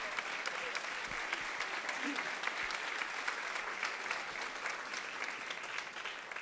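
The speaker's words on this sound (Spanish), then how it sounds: "El aplauso fuerte, señoras y señores, para esta hermosa masa coral" Loud audience applause for a choir at an awards ceremony, a steady wash of many hands clapping that continues without break throughout.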